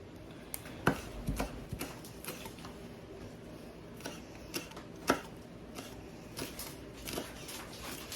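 Knife chopping fresh basil on a cutting board, a handful of scattered sharp taps and creaks spread over several seconds, quiet and close with no talk.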